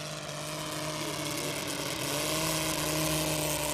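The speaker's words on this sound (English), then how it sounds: "That's a beautiful running engine." A Bentley BR2 nine-cylinder rotary aircraft engine runs in a smooth, steady drone with a strong humming tone, holding even and loud and swelling slightly toward the end.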